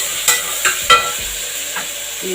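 Onion and tomato sizzle in a pan for a karela bhujiya, with a few sharp scrapes and clacks of a spoon stirring them over a steady background fry, close and loud.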